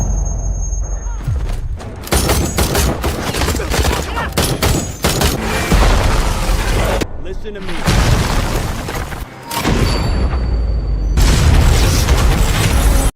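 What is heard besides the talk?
Hellfire missile strike explosion and gunfire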